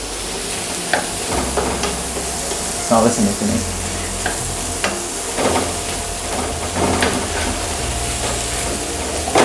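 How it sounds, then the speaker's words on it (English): Korean ramen frying in a pan with sauce and seasonings, a continuous sizzle and hiss with stirring scrapes and occasional clatter, while a person speaks briefly over it. "I'm already frying and added all the sauce and seasonings"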